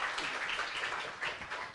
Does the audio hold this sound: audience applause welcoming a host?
yes